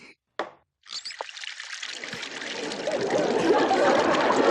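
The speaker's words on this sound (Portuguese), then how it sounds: "pelo menos vamos lavar o rosto, não é?" Water pours and splashes steadily as people wash their faces, starting after a few brief knocks and building to a continuous, fairly loud wash of liquid, set in a 1976 Chapolin comedy scene.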